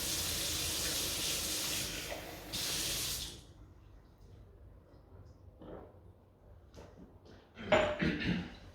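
A tap runs into a glass for about three seconds, a close hissing stream that cuts off abruptly, followed by quiet room sounds and a couple of soft knocks.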